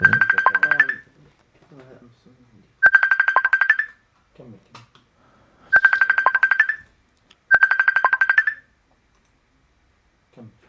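A telephone ringtone sounds in four loud repeating bursts of a few seconds each during a lecture on Quranic sciences, with faint speech between the rings.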